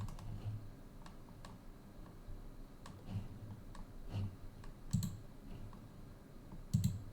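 Fingers type on a computer keyboard, producing faint, irregular clicks and key taps close by, a few slightly louder presses standing out against quiet room hiss, with no voices.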